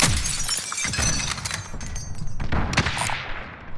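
Sniper gunfire in Call of Duty: Modern Warfare: several sharp, loud shots crack out amid dense game battle noise, with bursts near the start, middle and later on.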